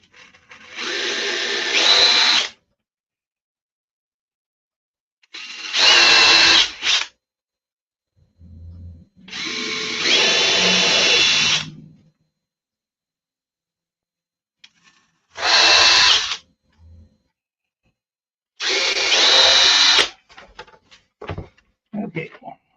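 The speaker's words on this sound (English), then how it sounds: "So we want to drill halfway through that with an 1/8." A 1/8 inch drill bit bores into a part during aircraft assembly in five separate bursts of a few seconds each, with quiet gaps between them and faint talk in the pauses.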